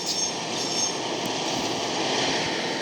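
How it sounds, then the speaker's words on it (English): Diesel locomotives travelling through a forest at night, a continuous rumble of rolling wheels on rail with a faint high squeal drifting over it and no voices. "The two diesels made their way through a Black Forest at night."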